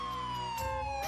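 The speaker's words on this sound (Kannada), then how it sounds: "ಆಂಬುಲೆನ್ಸ್ ಸೌಂಡ್ ಕೇಳ್ತಿದ್ದಂಗೆ ತುಂಬಾನೇ ಭಯ ಪಡ್ತೀರಾ" An ambulance siren wails steadily, a sustained high tone with a faint harmonic, heard loud and continuous with a brief low rumble partway through.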